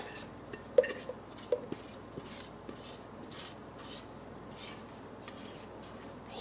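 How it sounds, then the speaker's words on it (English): A utensil scraping out a sieve held over a bowl in a busy home kitchen, with repeated soft rasping strokes and a couple of light clinks, close and fairly quiet. "I just find it hard to hold the sieve over this and scrape this out"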